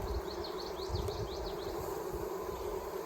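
Honey bees buzz steadily around an open hive during an inspection, a dense, soft, continuous drone with individual bees whining past now and then, no voices.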